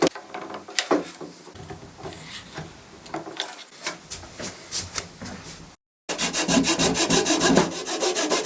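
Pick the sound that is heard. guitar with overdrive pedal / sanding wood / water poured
sanding wood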